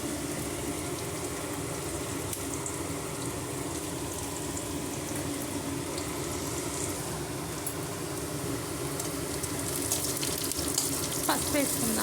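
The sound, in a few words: water poured into ridge gourd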